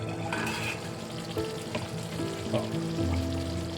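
Tomato masala for goat liver masala bubbles and sizzles gently in oil, a soft steady frying crackle close by with faint clinks and tonal background sounds, no talking.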